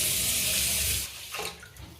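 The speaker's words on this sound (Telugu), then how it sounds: "వీటిలో రైస్ ఉడికించడానికి కావాల్సినన్ని వాటర్ యాడ్ చేసుకుందాం" Water pours steadily into a cooking pot of rice, a close rushing splash lasting about a second before cutting off, followed by a few faint knocks and clinks.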